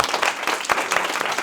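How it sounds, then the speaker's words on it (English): An audience claps in a brief, dense burst of applause, close and steady throughout. "Definitely deserves a round of applause"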